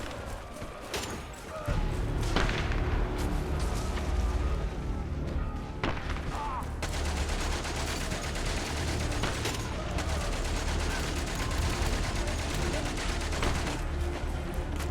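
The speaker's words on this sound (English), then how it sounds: "I guess we're gonna have to wait till it's done shooting" Dense World War I battlefield gunfire in Valiant Hearts: The Great War, a continuous loud rattle of shots and booms that swells after a quieter opening and keeps going throughout.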